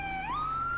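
An ambulance siren in the police game GTA V with the LSPDFR mod wails in a steady electronic tone that bends upward partway through, loud and continuous for under a second.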